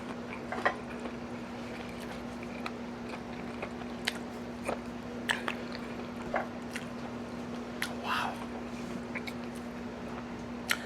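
Crunchy bites and wet chewing of crispy fried garlic parmesan shrimp, close to the mic, in repeated irregular crunches over a steady low background hum, with no talk.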